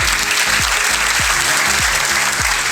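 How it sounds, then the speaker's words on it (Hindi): Loud audience applause fills the space as a continuous roar of clapping, while a low repeating tonal sweep recurs about every half second beneath it. "जोरदार ताली बताओ, हिम्मत है।"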